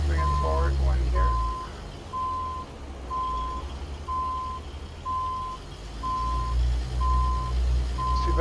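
A truck's reversing alarm in American Truck Simulator, on a fuel haul with a CLT 9000 rig, beeps in an even, steady series of about nine pulses over a low, constant diesel engine rumble.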